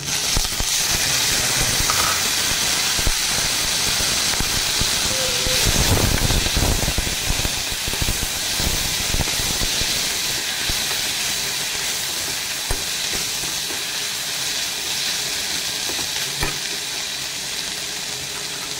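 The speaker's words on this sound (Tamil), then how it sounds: "இப்போ கருவேப்பிலை ஆட் பண்ணிக்கலாம்" Curry leaves sizzle and fry in a hot pan for a coconut thogayal, a steady dense crackling hiss that continues without letup, with no talking.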